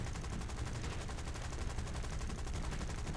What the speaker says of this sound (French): Et là, je tire totalement à côté.